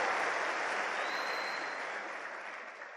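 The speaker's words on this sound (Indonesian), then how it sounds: "Tepuk tangan dong untuk Bandung" Applause from an audience at a seminar talk in Bandung, a dense even roar of clapping heard fairly faintly and alone, slowly fading over a few seconds.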